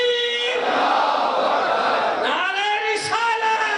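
A religious gathering's crowd shouts slogans in unison in response to a leader, a loud massed call rising and falling over a few seconds.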